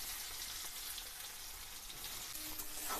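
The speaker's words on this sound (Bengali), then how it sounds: "পেঁয়াজটা আমি ভালো করে লাল লাল করে ভেজে নেব।" Chopped onions fry in oil for mutton keema aloo dum, giving a steady, close hiss and crackle with no talking.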